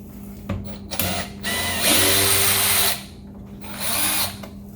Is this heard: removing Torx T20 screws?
yes